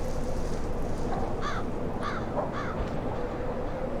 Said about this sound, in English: Obviously the crows cawing in the distance associated with death.